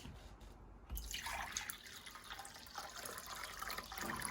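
Water poured into a measuring container during a liquid capacity check, a steady splashing trickle that starts abruptly and continues, rising slightly as the container fills.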